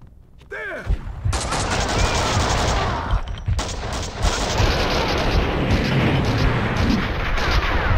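Heavy gunfire in Max Payne 2, a dense sustained barrage of rapid shots and blasts after a brief quieter opening, loud and close, with a voice talking faintly underneath.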